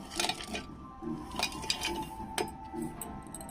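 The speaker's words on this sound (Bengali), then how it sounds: "এখানে মিক্সচার মেশিনের বাটি নিয়ে নিয়েছি, বাটির মধ্যে সব কিছু এইভাবে" Poppy seeds, ginger and green chillies tipped into a mixer grinder bowl, giving light clinks and rattles of spoon and bowl, a few separate clattering taps close by and fairly quiet.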